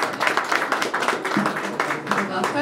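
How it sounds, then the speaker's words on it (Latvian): An audience applauding to welcome a speaker to the stage, a short burst of many hands clapping at close range, loud and steady throughout. "Sagaidām aplausi."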